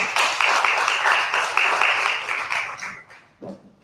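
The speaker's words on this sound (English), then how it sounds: "Let's give everyone another round of applause" A room of attendees at a civic tech panel session claps for the panelists, a dense sustained burst of many hands that tapers off and fades out near the end.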